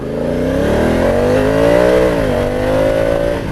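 A Honda CRF1000 Africa Twin DCT motorcycle in sport mode accelerates hard on the road as its front wheel lifts. The engine note stays loud and close, rising steadily through held gears with a brief dip at a shift, and no one speaks.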